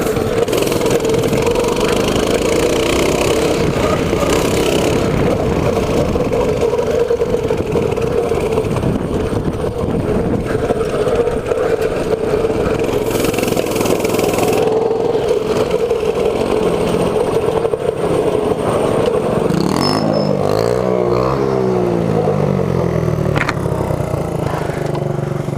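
Mini bike engine revving hard at full throttle while riding rough terrain, a loud continuous raspy drone that wavers and surges throughout, with a pitch dip and rise near the end.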